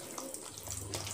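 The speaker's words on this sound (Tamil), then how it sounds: "கொஞ்சம் கொஞ்சமாக தண்ணி ஊற்றி" Water pours in a steady stream into dosa batter with a soft, continuous splashing hiss close by, and no one speaks.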